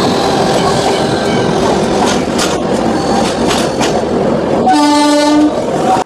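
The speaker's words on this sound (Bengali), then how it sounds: "আমাদের ট্রেন এসে পৌঁছালো তার জার্নির অতি একটা গুরুত্বপূর্ণ স্টপেজ খড়গপুর জাংশনে" Passenger train from Puri pulling into Kharagpur Junction, a loud rumbling roll with clattering wheels, then a long steady horn blast near the end before the sound cuts off; no talk.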